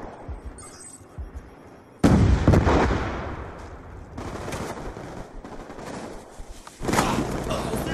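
Shotgun blasts and other gunfire in Black Ops 2 come as loud, dense bursts with short gaps between them, set against steady background battle noise.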